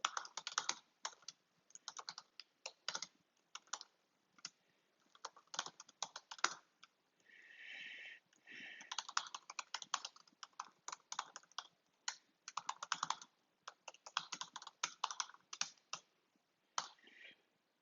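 Quiet, steady typing on a computer keyboard as a welcome message is entered, irregular bursts of soft clicks with short pauses between them, fairly faint and heard without any talking.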